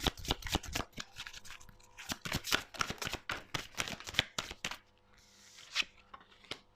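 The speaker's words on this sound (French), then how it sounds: "Je vais vous faire sauter les cartes, s'il vous plaît." A deck of oracle cards is shuffled by hand in a quick, close, crisp flurry of rapid riffling flicks for about five seconds, then a few softer taps as the cards settle, with no speech.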